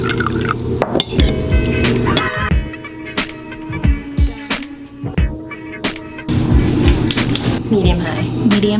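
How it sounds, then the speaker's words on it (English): Water pouring and splashing into a pan of braised tofu with drips and clinks, steady and close, with background sounds throughout. "And then I'm gonna add some water on it."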